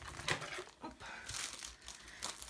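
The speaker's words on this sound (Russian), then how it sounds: "Я так немножко неаккуратно распаковываю, но мне просто не терпится" A parcel being torn open by hand, with crinkling, crackling packaging close up and quiet, in irregular bursts of rustle and tearing, no talk.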